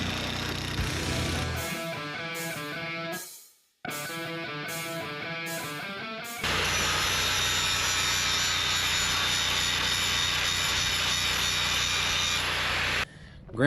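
A long metal pipe being cut on a West Texas cotton farm: a steady, harsh, grinding power-tool drone that cuts out briefly, then resumes louder and keeps going, with rhythmic chattering early on.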